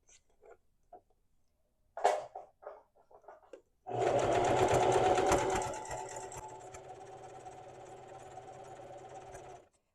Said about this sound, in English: You already know how to make your starter coil, secure it, and stitch this up to 13 centimeter base.